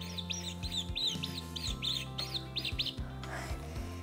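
Coatimundi calls from Mexico come as rapid high chirps in short bursts over a steady low hum, fairly faint and with no voices.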